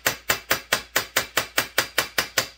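Eleven quick, evenly spaced metallic taps from a small hammer on a McCulloch 101B race chainsaw part ring out close up in a steady rhythm, each with a short bright decay.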